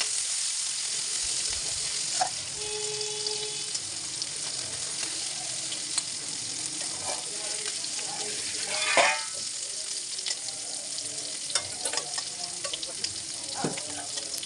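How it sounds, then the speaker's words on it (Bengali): Food frying in oil until crisp fills the whole stretch with a steady, close hiss and crackle, broken by occasional clinks and scrapes of stirring in a home kitchen. "তবু আর একটু সময় রাখবো, কারণ একটু কড়া কড়া ভেজে নেব"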